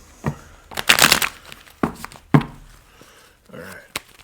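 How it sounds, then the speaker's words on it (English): Tarot cards riffle and slap together in a couple of quick bursts, close and crisp, followed by a few light taps and rustles. "Let me do a quick shuffle"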